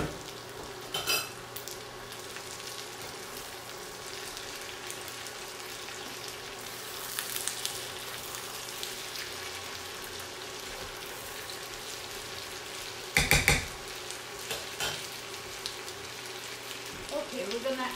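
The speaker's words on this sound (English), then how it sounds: "now it's time to put our kidney beans" Kidney beans fry in a pan with a quiet, steady sizzle, broken by a few sharp clatters of a utensil stirring against the pan.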